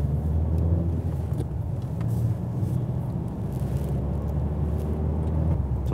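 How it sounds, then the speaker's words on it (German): A Mazda6 on a test drive gives a steady low engine and road rumble from inside the cabin, even and unbroken throughout, with no talk. "Dann fahren wir mal ein bisschen Probe, wa?"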